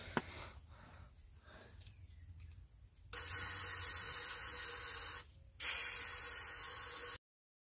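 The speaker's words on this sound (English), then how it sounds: "And you can run it way far up inside chassis stuff and spray it." Fluid Film rust-proofing spray gun sprayed deep inside the frame rails of a 2005 Dodge Power Wagon truck, a steady loud hiss in two bursts with a short pause between, following a quieter stretch of background noise.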